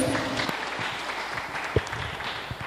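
A small group in a church service claps steadily for a few seconds, a light, even patter of applause with a couple of sharper individual claps.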